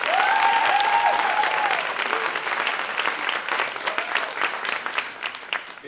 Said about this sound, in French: vous pouvez encore applaudir la high school.